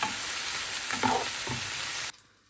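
Steady, loud sizzling of onions frying in a frying pan for shrimp roast, with a few stirring scrapes partway through, before the sound cuts off abruptly near the end.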